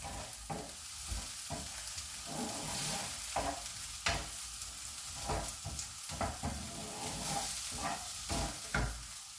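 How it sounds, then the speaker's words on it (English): Tofu and quinoa stir-fry with vegetables in a pan, giving a continuous soft sizzle. Irregular scraping and clacking stirring strokes sound close up throughout. "And then I'm going to add the tofu in. Keep stirring."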